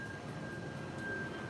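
An airplane passing overhead outdoors, a steady broadband engine rumble holding at an even, moderate level throughout, with a thin constant whine on top and no talk.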